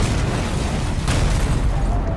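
A large bomb detonates inside a target's house in an action film, a sustained heavy rumbling boom with dense low-frequency roar and a brief brighter burst partway through, loud and continuous with no speech.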